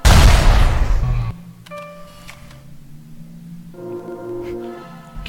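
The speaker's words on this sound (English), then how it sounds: "Explosion!" Video game explosion in BioShock: a loud roaring blast up front that dies away after a second, followed by quieter clanks and tonal game sounds.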